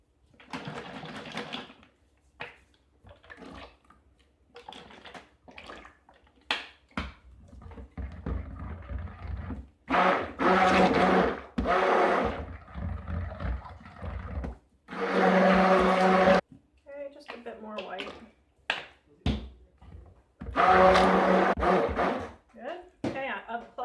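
A stick blender whirs in several loud bursts of a few seconds each while mixing soap batter, separated by pauses with clattering and a person talking.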